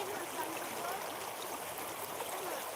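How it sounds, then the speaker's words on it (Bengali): Stream water flows in a continuous, even rush, with steady hiss and soft gurgle and no breaks, fairly faint throughout. "দেখছেন কি সুন্দর কি সুন্দর জল তার নিচে কি সুন্দর জল"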